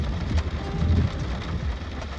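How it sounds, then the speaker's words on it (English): Steady rain falls in a dense, continuous hiss with a low rumble beneath, like a thunderstorm, with no voices over it. "I love the rain"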